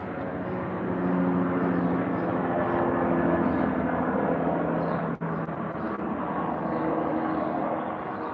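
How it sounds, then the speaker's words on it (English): An airplane passes overhead, a steady broad engine roar that swells and holds loud throughout, heard outdoors. "let me let this plane pass"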